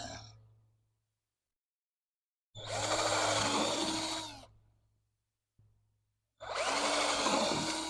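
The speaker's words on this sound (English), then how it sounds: "I drill it right above the dirt." A power drill whines through material in two separate bursts of a couple of seconds each, with quiet pauses between them and no talking.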